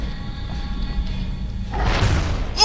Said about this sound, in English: Missile launcher.